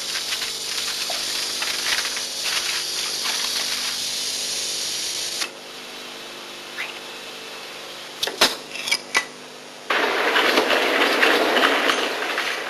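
An aluminium-bodied London Transport tube train runs on rails with a steady rumbling roar, a quieter stretch broken by sharp clicks and clanks, then a louder rush of noise near the end.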